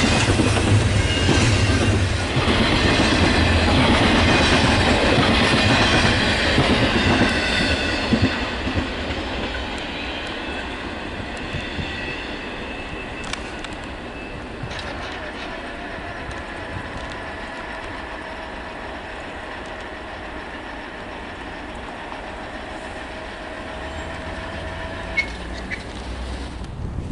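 Westbound train passing on the Chicago line on a cold winter day, with loud rumbling and clattering wheels close by that gradually fade into a steadier, more distant roll with faint squeals.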